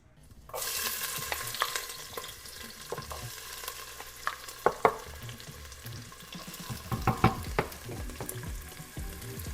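Vegetables fry in the oil skimmed from a roux for vegan green gumbo, a soft sizzle under repeated spoon scrapes and clinks against the pot, with a cluster of louder stirring knocks near the end.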